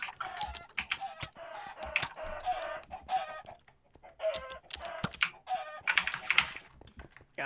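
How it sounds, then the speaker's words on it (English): Chickens cluck and squawk in repeated bursts during an online team game night, with fast clicking and typing at the keyboard running underneath the calls throughout. "Why are the chickens after me now?"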